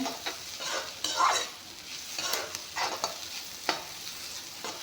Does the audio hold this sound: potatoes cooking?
yes